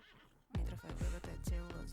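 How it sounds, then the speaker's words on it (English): A horse neighs as a song opens, a sharp whinny immediately followed by a heavy echoing beat with deep booming kicks repeating about every half second. "That was a horse and then immediately the beat."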